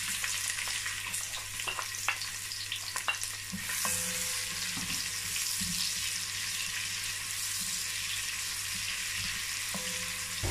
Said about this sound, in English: I'm going to fry the onions halfway cooked